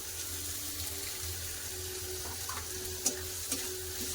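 Tomatoes fry in a pan with salt, a steady soft hiss of cooking with a couple of faint stirring taps, fairly close and with no talk.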